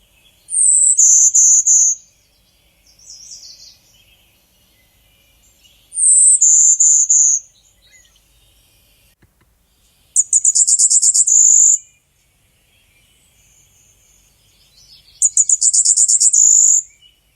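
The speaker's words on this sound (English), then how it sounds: "the two most common songs of the golden-winged warbler, described as a composite of buzzes, chirps, and high trills" Golden-winged warbler songs, high buzzy phrases repeated four times at steady intervals, each a thin buzz or rapid trill, with quiet pauses between.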